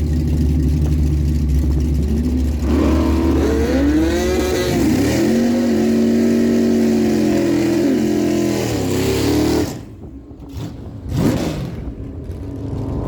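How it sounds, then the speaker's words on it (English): A 1970 AMC Hornet drag car with a 383 small block stroker Chevy engine roars loudly at a dragstrip, revving and sweeping through pitch as it launches, then the engine note drops away sharply near the end. "1970 AMC Hornet. Powered by a 383 small block stroker Chev power."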